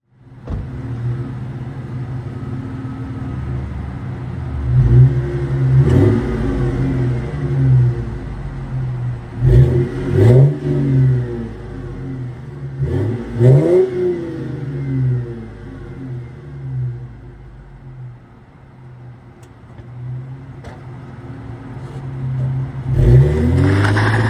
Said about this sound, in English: he thought it was a pretty modest sounding exhaust